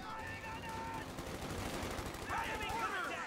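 Machine gun fire in the Company of Heroes 2 video game during a 2v2 match, rapid continuous bursts rattling throughout under a commentator's talk.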